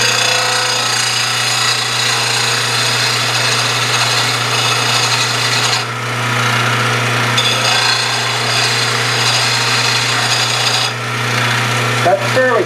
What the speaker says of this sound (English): It's nice about having one of these little grinders.